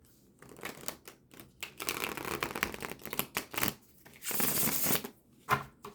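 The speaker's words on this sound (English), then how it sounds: "It really does shuffle pretty well." A new Interim Tarot full-bleed card deck is shuffled by hand, giving a series of crisp riffling and flapping bursts with brief pauses between them, close and fairly loud, with no talking.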